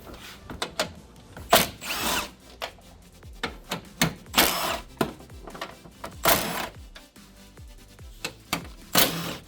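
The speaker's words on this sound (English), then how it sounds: "So we're going to use a 10mm socket with the impact wrench to take this out." An impact wrench fitted with a 10mm socket removes radiator bolts on a 2010 Mercedes ML350 4MATIC, firing in loud, close bursts of rapid hammering separated by short pauses.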